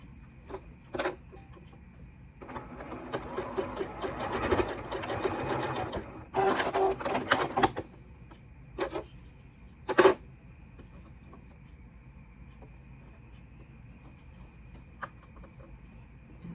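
A sewing machine stitches a quarter-inch seam on a small doll dress, running in several short bursts of rapid mechanical whirring with quiet gaps between, fairly close and moderately loud.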